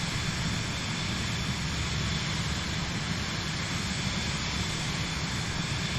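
Microsoft Flight Simulator airplane engine climbing toward cloud level on a Savannah, Georgia to Miami flight: a steady, loud, unbroken engine drone with a broad rushing roar throughout and no talking.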